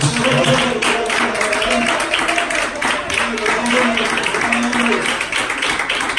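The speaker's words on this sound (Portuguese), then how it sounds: "vamos dar uma salva de palmas para Jesus" Congregation at an IPDA Pentecostal church service in Japan applauds, with dense continuous clapping filling the room over a tonal backing of voices or music.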